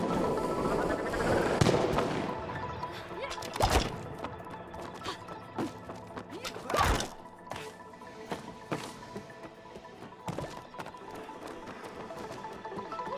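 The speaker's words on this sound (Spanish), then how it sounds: "Hay más cohetes." Rockets blasting in the video game It Takes Two, a string of sharp, loud explosive bursts at irregular intervals, heard over a busy background of game music and effects.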